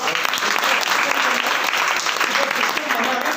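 A loud, dense burst of audience applause fills the room at a business income-plan presentation, continuous and heavy from start to finish, with crowd murmur blended underneath.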